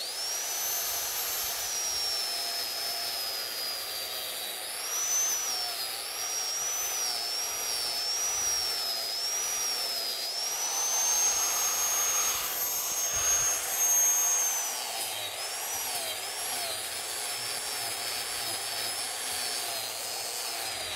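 Hand-held router with a tungsten carbide cutter profiling curved wooden console legs outdoors, a steady high whine running continuously with slight pitch wavering, loud and close, with no talk.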